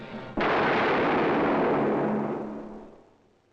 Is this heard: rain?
no